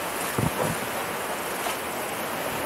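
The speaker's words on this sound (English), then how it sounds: "And there's big waves coming in the front." Big river waves rushing against an Alpacka Oryx packraft canoe, a steady broadband wash with wind buffeting the microphone and a couple of brief splashes near the start, no talking.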